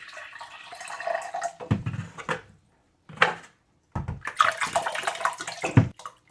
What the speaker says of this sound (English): So I'll get half the jar filled with vinegar.